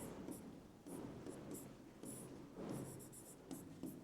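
Marker or chalk strokes on a classroom board during a maths lesson, a series of short scratchy bursts spread over a few seconds, faint and fairly close, with no talk over them.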